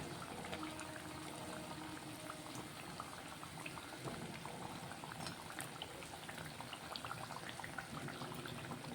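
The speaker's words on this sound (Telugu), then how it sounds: "అన్నీ అయితే ఇట్లా ఫ్రై అవుతున్నాయి" Food sizzling in hot oil in a pan on a gas stove, a steady dense crackle and bubbling that runs throughout at moderate level with no talking.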